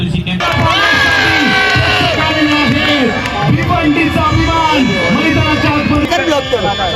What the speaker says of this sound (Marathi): जल्लोष, टाळ्या शिट्यांचा आवाज